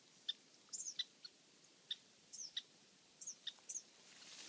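An eastern kingbird near its nest with four young gives sharp, high chittering calls in short bursts, faint and somewhat distant, repeating irregularly across several seconds outdoors.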